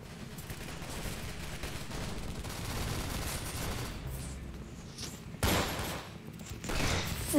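Gunfire in a Roblox video game, a run of rapid shots amid busy game noise at low to moderate level, with sharper bursts toward the end.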